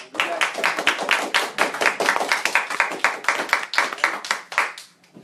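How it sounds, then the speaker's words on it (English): A small group of graduates claps steadily for about five seconds, the dense, close hand claps tapering off at the end. "So give yourselves a round of applause."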